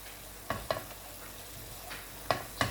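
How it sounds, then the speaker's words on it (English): A few sharp metallic clanks of a utensil against a pan while cooking chutney, scattered irregularly over quiet background, with faint stirring noise between. "Sorry for that horrendous clanking sound."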